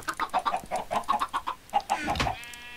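Chickens in the Minecraft Agricraft mod cluck in quick, repeated bursts, several birds overlapping close by, ending in a higher drawn-out squawk.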